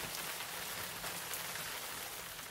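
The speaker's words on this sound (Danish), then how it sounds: "Det regnede til og med meget slemt lige nu." Heavy rain pours down steadily on a stormy, windy night, a dense, even hiss of drops close by with no voices over it.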